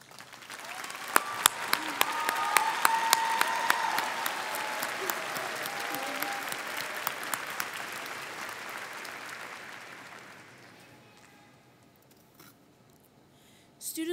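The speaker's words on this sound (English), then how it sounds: "please stand as we applaud your success" A graduation audience at a Butler Tech ceremony applauds honored students, a dense sustained wash of many hands clapping that swells, holds steady, then fades out toward the end.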